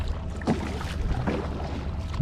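Kayak paddle strokes on the Mississippi River near a backwater with whirlpools and strong current, a few short, powerful splashing strokes over constant water and wind noise, fairly quiet and without speech.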